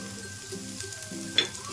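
Soft sizzling and crackling from leaves frying in a pan, steady and close, with a faint stirring scrape.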